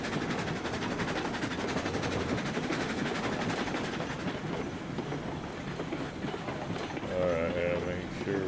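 Steam-era freight train running on rails in the railroad game RailRoads Online, a steady close rumble with faint clickety-clack and rolling wagon noise throughout, a brief tonal whistle-like sound near the end.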